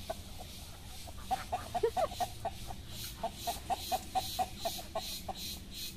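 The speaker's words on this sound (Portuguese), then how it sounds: "E aí, olha, tá o galo lá, tá as galinhas." A rooster and hens cluck in a farmyard coop area, a steady string of short clucks repeating at moderate distance with no talking.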